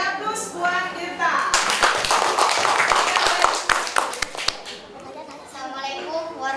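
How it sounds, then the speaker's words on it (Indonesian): Pupils in a primary school classroom clap for a classmate named Tirta, a burst of quick, uneven handclaps lasting about three seconds, with children's voices and an adult voice before and after. "Oke, beri aplaus buat Tirta"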